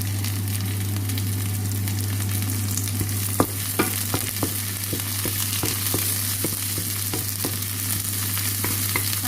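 Sliced potatoes fry in a hot pan with chilies being added, a steady loud sizzle running throughout with scattered sharp crackles and pops from about the middle onward, with a low constant hum beneath.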